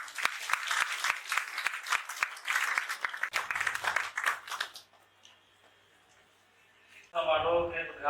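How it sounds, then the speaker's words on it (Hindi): Audience at a Hindi Day ceremony in Patna gives a round of applause to welcome guests, dense clapping lasting about five seconds before fading to quiet room tone, then a louder burst of other sound. "तालियों से स्वागत"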